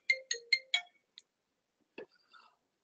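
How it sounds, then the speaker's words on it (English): A phone ringtone goes off during a lecture, a short burst of four quick bright electronic tones followed by a couple of faint chirps in an otherwise quiet room. "Sorry about the phone call."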